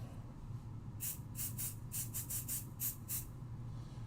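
A series of short, soft bursts from a can of removable adhesive spray, about eight quick hisses in a row, heard close over a low background hum.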